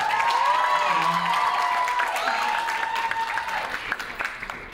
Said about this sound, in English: Yeah, you can cheer for that. That's a good thing to cheer for.